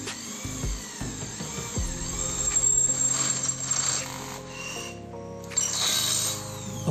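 Corded DCA AJZ01-6A electric drill with a 7.5 mm bit boring through 1.5 mm galvanized steel, a close, steady motor whine that shifts in pitch as the bit bites, with brief drops and bursts of load, no talking.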